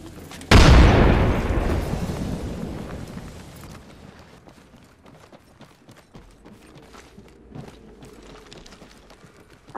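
Frag grenade blast in the battle-royale shooter Apex Legends: one loud, close boom bursts out and decays over a few seconds into a rumbling tail, leaving faint in-game footsteps and small clatters behind it.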